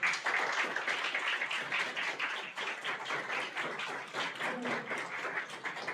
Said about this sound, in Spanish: está aquí con nosotros la cooperativa Alegría del Maguey, que también pues les pido un fuerte aplauso